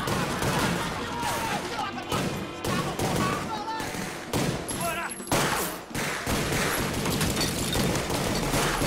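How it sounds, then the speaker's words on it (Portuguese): Gunfire from the Elite Squad trailer, rapid bursts and volleys of shots crackling through a tense scene, loud and close, with shouting voices and dramatic music mixed underneath. "Tá atirando em quem, cara?"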